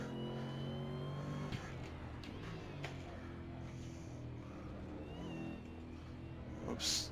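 A race car in a sim racing game revs hard, its engine note climbing then holding a steady drone as the throttle works through a corner, with a brief loud flare near the end.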